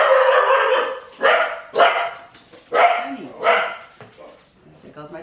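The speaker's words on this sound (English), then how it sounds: "There goes my dogs." Several dogs bark in loud, close bursts, about five rapid volleys with short gaps, ending in softer yips and whimpers, heard indoors in a home kitchen.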